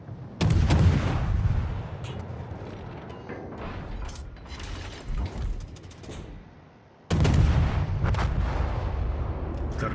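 Heavy naval guns boom in repeated salvos from the Soviet destroyer Tashkent in a naval battle video game, two loud broadband blasts with long rumbling decay between them and a brief lull before the second volley.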